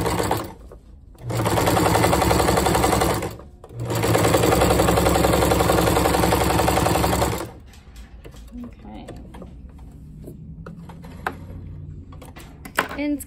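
Sewing machine fitted with a walking foot stitching through a quilt sandwich: two loud, steady whirring bursts of rapid needle action, then quieter clicks and handling noises of fabric and machine.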